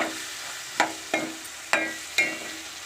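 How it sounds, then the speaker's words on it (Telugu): Potato and brinjal curry is mixed in a frying pan: four evenly spaced, sharp spatula scrapes and knocks ring out close by over a faint background sizzle. "ఇట్లా మంచి దగ్గరికి వచ్చేట్టు కలుపు."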